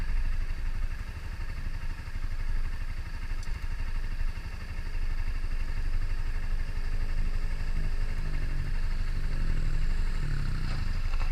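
A kid's dirt bike running off road on gravel roads, its engine droning steadily and continuously at middle distance with faint rattling, with no talking.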